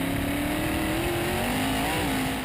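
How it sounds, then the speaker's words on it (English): A sprint car races on a short dirt track at the 2010 ASCS Arkansas Short Track Nationals, heard from onboard as a loud, steady engine drone whose pitch dips and rises slightly through a corner. "He was trying to work his way into the A main here as we went on board with Tim Crawley"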